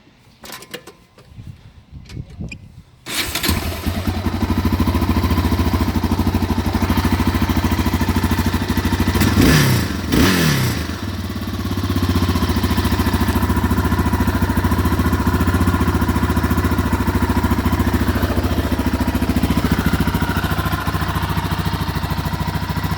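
A 2003 Yamaha Raptor 660R ATV with its stock exhaust starts after a few quiet clatters, then idles loud and close with a steady thump and a short blip of revs midway, no talk over it.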